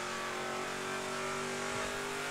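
A police officer's car engine revs loudly and continuously in a video game, a dense steady mechanical roar with a rising tone, close and alone.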